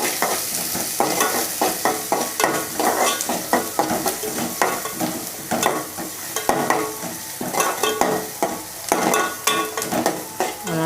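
Onions sautéing in hot oil in a pan for an egg curry, a bright continuous sizzle with rapid repeated scraping and stirring strokes, close and steady throughout.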